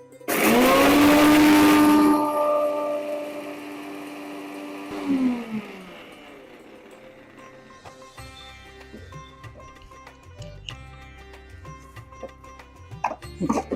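A mixer grinder whirs loudly for about two seconds, grinding garlic, ginger and green chilli into paste, then winds down. Light clinks and handling noises follow as the jar settles.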